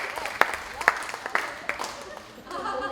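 Scattered audience clapping at a beauty pageant training session, a few sharp individual claps standing out over a thin patter, followed by voices toward the end.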